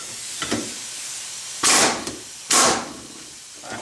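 Impact wrench loosening an alternator decoupler pulley bolt on a 2008 Dodge Avenger: two short, loud hissing bursts about a second apart, standing out over quiet background clatter.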